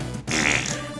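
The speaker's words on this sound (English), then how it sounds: "Nice fart gun." A fart gun in a card-based adventure game lets out one loud, wet, flapping fart about a second long after a brief pause.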